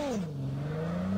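A fast car in the Call of Duty Mobile video game accelerates, its engine note climbing in a steady rising whine, loud and close with no talking.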